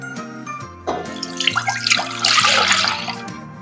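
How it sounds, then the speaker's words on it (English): Homogenized milk poured into a saucepan, a close liquid splash and gurgle that builds into a steady stream for about two seconds over a faint background hum, with no talking. "In the saucepan, I'm going to add 2 cups of homogenized milk."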